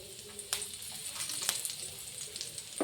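Nangu fish frying with curry leaves in a well-seasoned iron pan gives a steady close sizzling hiss, broken by a few sharp pops and spatters.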